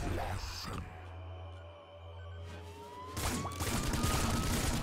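Super flame eraser firing in the game Nuclear Throne: a steady roaring, hissing blast with rising whine, growing louder and denser near the end, with sustained low rumble underneath.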